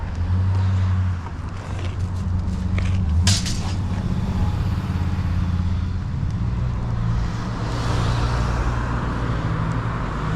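Street traffic rolls past along a roadway, a steady low engine rumble from cars and trucks with a brief sharp hiss near the middle, swelling again toward the end.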